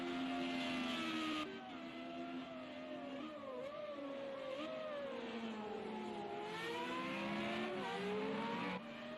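FR35 race cars roar downhill at the Algarve circuit, several engines rising and falling in pitch as they pass one after another, loud and close throughout.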